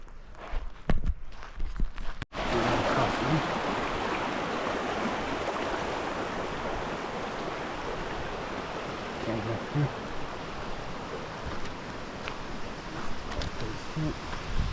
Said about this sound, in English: Waterfall too.